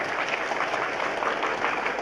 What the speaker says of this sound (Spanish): Si usted puede aplaudir, aplauda.